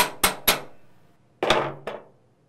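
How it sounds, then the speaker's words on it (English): Sharp metallic taps on the servo cover of a 4L60E transmission, knocking it loose from dirt buildup: two quick hits, a pause, then two more, close and ringing briefly. "Tap the servo cover to loosen it up from dirt buildup."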